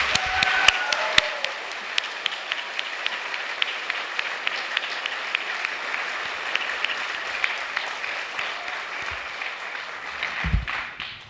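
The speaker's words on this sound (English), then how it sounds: "Round of applause for all of them," Audience applause at a spring orchestra concert, a steady wash of many hands clapping in a large room that holds evenly, then tapers with a final thump near the end.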